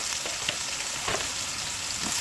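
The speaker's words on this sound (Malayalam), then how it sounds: "ഒരു 2 സവാള അരിഞ്ഞത് ഇതുപോലെ ഇട്ട് കൊടുക്കാം." Two chopped onions land in hot oil already crackling with mustard seeds, curry leaves and dried red chillies, a steady near sizzle with soft pops and a short surge of frying noise.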